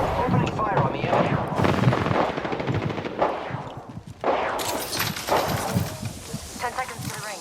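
Rapid automatic gunfire in the video game Apex Legends, loud dense bursts with short pauses and sharp cracks, mixed with game voices and effects.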